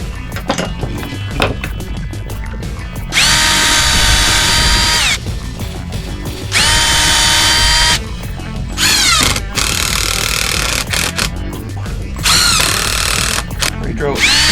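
A power drill bores into pallet wood while building a bird nectar feeder, running in several loud bursts of a few seconds each with short pauses between them.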